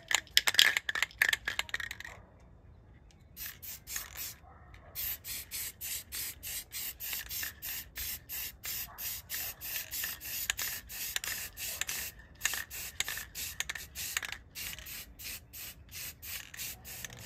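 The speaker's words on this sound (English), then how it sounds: "We're gonna be painting the unit and the coil guard." Spray paint hisses onto an AC unit and its coil guard in a long run of short, rhythmic bursts. The can clatters near the start, then pauses briefly before the steady spraying continues.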